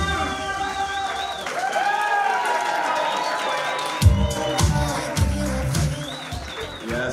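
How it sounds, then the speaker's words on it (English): A comedy show crowd applauds and cheers for the MC coming onto the stage, a broad steady roar of clapping and whoops that grows denser toward the middle, with music and some voices mixed in. "Give yourselves a big round of applause"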